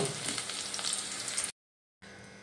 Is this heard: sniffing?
no